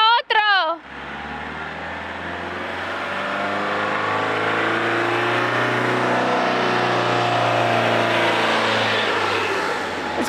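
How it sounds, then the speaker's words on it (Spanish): A car engine revs hard and steadily as the vehicle climbs a very steep slope in Portugal, a loud sustained drone after a brief voice at the start. "Escucharon ese motor como hizo para poder subir así tan empinado como esto"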